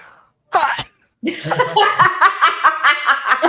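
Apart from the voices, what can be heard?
sneeze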